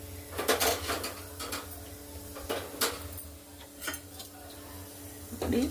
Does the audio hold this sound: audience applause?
no